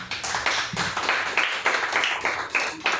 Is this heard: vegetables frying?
no